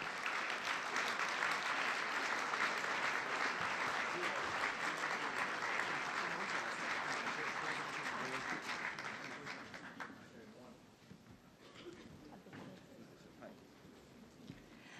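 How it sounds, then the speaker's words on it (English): An audience at a universal health coverage forum applauds departing dignitaries with a dense wash of clapping that holds steady, then thins and fades out after about ten seconds, leaving a quiet hall with faint sounds. "Ladies and gentlemen, please give the dignitaries a big applause."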